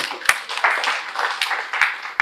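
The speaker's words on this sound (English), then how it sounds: "Can you clap for yourselves?" A small audience at a financial literacy session applauds itself with a dense patter of hand claps, punctuated by a few sharper single claps close by.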